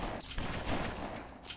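Gunfire in the game BloodRayne: Terminal Cut aimed at the player comes as a fast rattling burst of shots, moderately loud and dense, with no talking.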